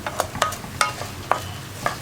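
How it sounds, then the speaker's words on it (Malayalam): Washed ration rice stirred and dry-roasted in a pan, with a scraping stir every half second or so and a faint sizzle between strokes, close and moderately quiet. "ഇപ്പോൾ നമ്മൾ കഴുകി വൃത്തിയാക്കിയ അരി നമ്മുടെ പാനിലേക്ക് മാറ്റിയിട്ടുണ്ട്. ഇതിന് നന്നായിട്ട് ഇളക്കി കൊടുത്തുകൊണ്ടിരിക്കുക."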